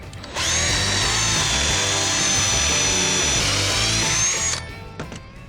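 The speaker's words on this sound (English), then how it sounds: "I'm also going to use a pocket hole drill set" A power drill with a pocket hole drill set whirs steadily at high speed for about four seconds, then spins down, loud and close with no talking.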